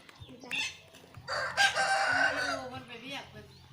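A fighting cock crows loudly and close by, one long drawn-out call with a few clucks on either side, while a person speaks quietly in the background during an outing in Vientiane Province, Laos.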